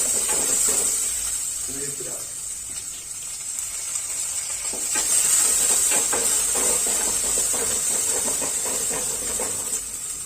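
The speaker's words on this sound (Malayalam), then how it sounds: "അപ്പൊ ഇത് നന്നായിട്ട് വഴറ്റണം." Masala being sautéed for Kerala mackerel curry (ayala curry) gives a steady hiss and sizzle throughout, with faint clinks of stirring and brief background voices.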